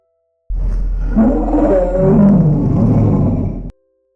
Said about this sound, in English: Listen to the dinosaur roar.